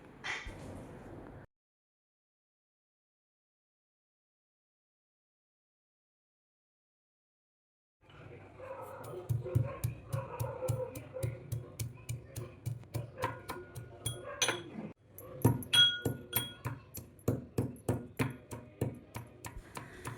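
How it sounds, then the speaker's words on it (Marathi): Garlic and cumin pounded in a mortar and pestle, a quick rhythmic series of dull thuds close by, starting after a long silence and continuing steadily to the end. "लसूण आणि जिरा हे आपल्याला खलबत्त्यामध्ये बारीक कुटून घ्यायचं आहे"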